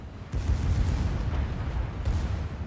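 World of Warships naval battle with a Kraken Yamato firing HE shells: heavy booming salvos and explosions, with a big blast near the start and another about two seconds later, over a constant rumbling roar.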